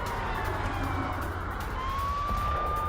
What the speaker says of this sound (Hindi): हमलों के बीच मध्य इजराइल में सायरन भी बज रहे हैं।